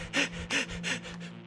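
A human voice imitates a dog's panting breath, three quick, close, airy huffs in an even rhythm that fade toward the end.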